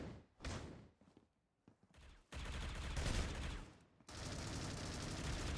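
Bursts of automatic gunfire and shots ring out during a Critical Ops tournament finals match, several loud clustered volleys separated by brief quieter gaps, with faint background voices.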